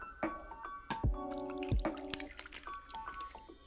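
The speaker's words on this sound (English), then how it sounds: "let's pour it into our glass" Bartesian cocktail mixture poured from the machine into a 7-ounce glass, heard as a few close, faint splashes and drips with soft clinks of the glass, no talking.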